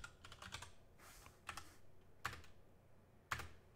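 Typing on a computer keyboard, with short bursts of quick keystrokes and a few single clacks spread out, close and fairly quiet.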